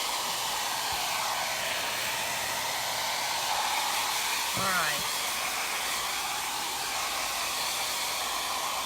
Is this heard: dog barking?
no